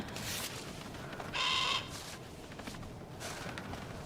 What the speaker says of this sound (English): That damn bird, man.